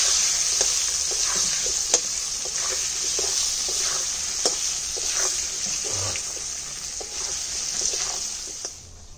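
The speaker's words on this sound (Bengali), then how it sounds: "এবার ভেজে নেব।" Potatoes with turmeric and salt fry in a pan, giving a steady close sizzle broken by scattered stirring clicks and scrapes, with no talk.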